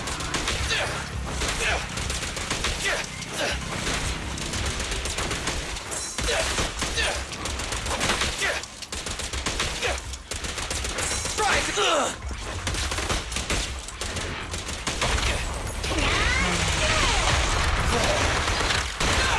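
Rapid gunfire from the Zenless Zone Zero video game: dense, loud, near-continuous bursts and shots across the whole stretch, mixed with crashes and impacts and layered with game sound.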